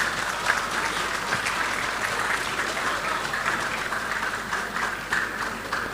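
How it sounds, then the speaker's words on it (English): A crowd at a congregation ceremony applauds steadily and loudly throughout, a dense, continuous wash of clapping that never lets up. "Let us welcome him with a big round of applause"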